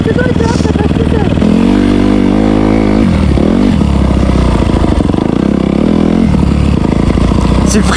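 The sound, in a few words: dirt bike engine revving on cross terrain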